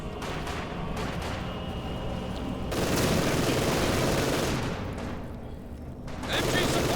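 German MG42 machine gun firing bursts in Company of Heroes 2 against a mortar, with dense gunfire and battle noise throughout, swelling louder midway and again at the end, while a commentator talks over it.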